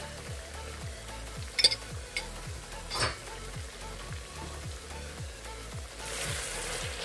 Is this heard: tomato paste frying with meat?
yes